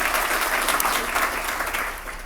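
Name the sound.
audience applause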